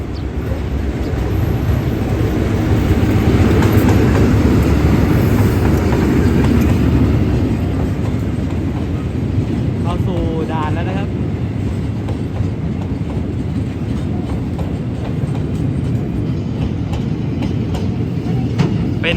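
A Thai freight train loaded with used concrete sleepers rumbles past close by, with steady rolling roar and rail clatter, loud throughout.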